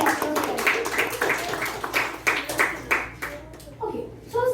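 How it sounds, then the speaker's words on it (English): Small audience at a youth event giving a round of applause, a handful of loud, separate claps in uneven bursts that thin out, then a brief voice before a final clap. "Round of applause."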